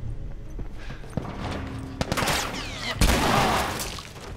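Machine gun fire in The Last of Us video game: a few sharp, loud shots crack out over busy in-game ambience, separated by short pauses.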